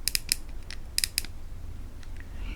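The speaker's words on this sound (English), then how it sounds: "when you turn the click on the CI4, it's kind of got this plasticky click sound." A Shimano Chronarch CI4 baitcasting reel gives off a few quick bursts of light, plasticky clicks, close up and crisp, in two short clusters with a faint mechanical rattle between them.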